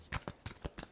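A tarot deck gives a few quick, soft shuffling riffles at close range, with no voices over them.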